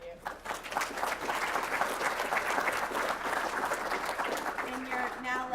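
A conference audience at a tech user meeting applauds: dense, sustained clapping that fills the room for several seconds. Faint voices come in near the end as the clapping tapers.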